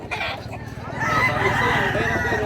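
Rooster crowing at a poultry market, a drawn-out call rising over nearby clucking and crowd murmur.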